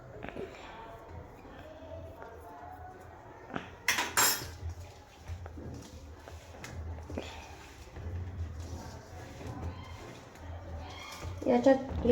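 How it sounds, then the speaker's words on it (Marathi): A spoon mixing hot oil into flour dough for layered baati, soft scraping and occasional clinks of metal against a bowl, with quiet talk in the background and louder knocks near the start and end. "ते गरम असल्यामुळे मी चमचाने मिक्स करून घेते"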